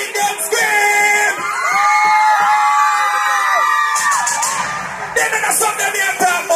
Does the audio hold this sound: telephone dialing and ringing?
no